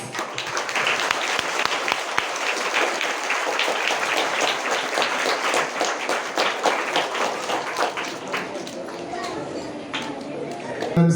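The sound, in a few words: students applauding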